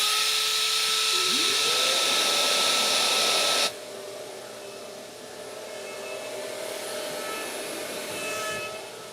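A handheld Shaper Origin router fitted with a 6mm bit cuts mortises, giving a loud, steady, high-pitched motor whine with strong tonal overtones that drops off sharply partway through, leaving a quieter lingering hum.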